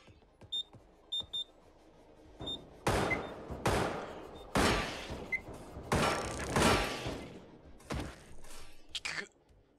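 Short electronic beeps are followed by a string of loud, separate gunshots at irregular intervals as a handgun fires at a turret in the first-person shooter Receiver. No one speaks over the shots.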